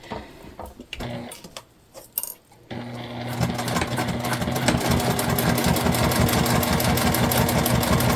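A sewing machine runs a steady, fast stitching drone while joining the interior and exterior of a turned tote bag, preceded by a few short starts and clicks, close and fairly loud.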